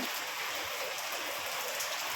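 Steady rain lingering after a typhoon, a dense continuous hiss of drops on surfaces, even and fairly close, with no voices.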